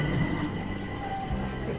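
A short burst of steady low rumbling from a Stockholm underground metro train (tunnelbana) moving along the tracks, fairly quiet and continuous.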